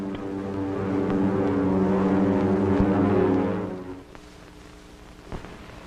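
A World War II German aircraft flies overhead with a loud, sustained propeller-engine drone that swells, holds for several seconds and then fades away, leaving a quieter background with a faint thump.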